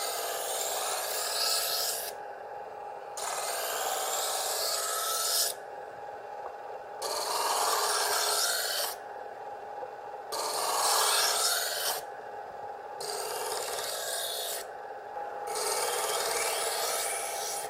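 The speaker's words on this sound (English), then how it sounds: "you hear the grinding noise, start the pull through the sharpening slot like so" A Smith's Diamond Edge electric knife sharpener grinds a knife blade pulled through its diamond-wheel slots: loud, close rasping strokes repeat about six times, each separated by a brief quieter gap where only the motor's hum remains, with no talking.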